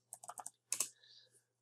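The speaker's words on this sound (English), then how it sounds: "I'm going to type in the word chapter." Quick keystrokes on a computer keyboard in a quiet room, a short burst of four or five light taps followed by a couple more clicks, close and fairly soft.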